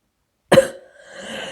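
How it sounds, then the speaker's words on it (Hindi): One sharp, loud cough from someone with a sore throat, followed by a softer rasping breath. "मुझे खांसी भी बहुत आ रही है"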